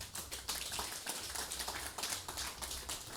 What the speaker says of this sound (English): give this team here today a hearty, hearty round of applause